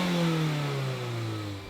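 A Subaru BRZ and a Mazda MX-5 launch off the line in a drag race, engines revving hard with a loud, rising and falling mid-pitched roar, close by, brief and without talk.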